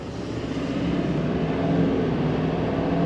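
A 2023 Chevy Silverado 2500 High Country with the Duramax diesel V8 and 4x4 pulls away, its engine note a low, steady rumble that rises slightly as the truck accelerates, heard from inside the cab.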